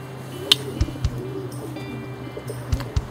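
Soft, low cooing from a racing pigeon repeats a few times close by, with faint chirps and light clicks in a quiet room.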